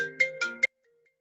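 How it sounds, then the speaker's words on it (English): Phone ringtone from an incoming call sounds in a short burst of three bright electronic tones, close and fairly loud, then cuts to silence. "Decline my phone."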